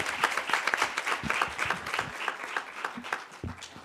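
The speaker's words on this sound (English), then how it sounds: "A big round of applause for her" Audience applause after a talk at a women in media event, steady dense clapping from a sizeable crowd, close and continuous without speech.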